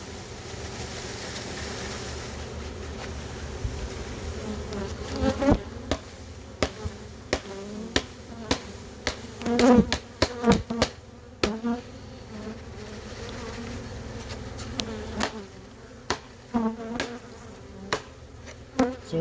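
A dense swarm of honey bees hums loudly and steadily around a queen that does not belong to them, close to the listener, with sharp knocks and thumps breaking in repeatedly.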